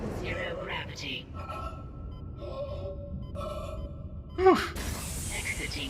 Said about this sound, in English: the breathing sounds are so... visceral.